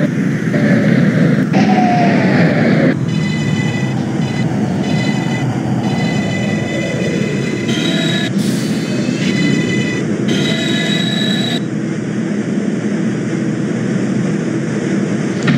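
A New York subway 6 train on the Lexington Avenue line runs in the OpenBVE train simulator game, with a steady loud rumble of wheels on rail and shifting high motor whines and tones throughout.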